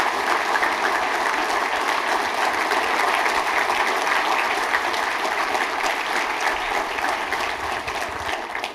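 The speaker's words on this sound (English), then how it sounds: "Let's give him a round of applause." Sustained, loud applause fills a banquet room at a school fundraising dinner, a dense, even wash of many hands clapping that holds steady and fades slightly at the end.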